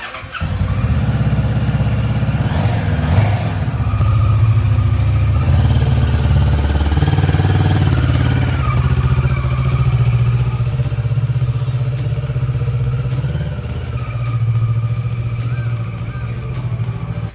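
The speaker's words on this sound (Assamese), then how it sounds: "বাইক ৰেডি এইফালে আহিছে আমাৰ কৌস্তভ ভাইয়া বাই বাই দিব" A motorcycle engine idles loudly and steadily up close, with a slight rev change midway and faint clatter.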